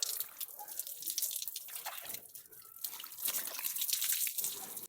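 Water poured over the head during a bath, close, uneven splashing and dripping that keeps going with small dips and surges.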